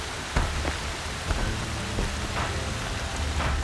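Steady rain pours in the open world of Horizon Zero Dawn, a dense hiss of drops on surfaces with a few brief louder patters and a faint low rumble underneath, no voices.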